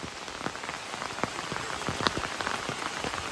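Steady rain pours down and patters on surfaces, a dense continuous hiss with scattered drops, with no voices.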